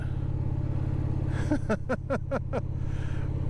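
A Roadmaster motorcycle engine runs close by with a steady, heavy low drone that swells slightly, and a brief run of quick rising chirps sounds over it midway.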